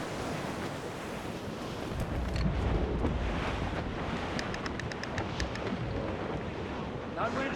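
Strong wind gusts roar across open water in Assassin's Creed Rogue, mixed with the wash of waves against a ship, a steady loud rush that swells midway with faint creaks and clinks on top.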